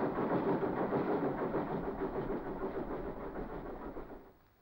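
A train runs on rails with a steady, close rumbling roar and faint rhythmic clatter, heard alone and fading out at the end.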